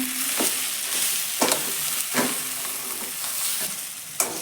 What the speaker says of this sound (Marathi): आता आपण बटाटा टाकू गॅस कमी करायचा